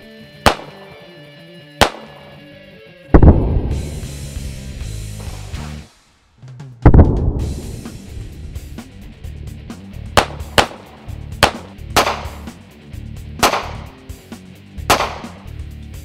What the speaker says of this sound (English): The SR40, stainless slide polymer frame, nice light gun, but yet the recoil is very manageable.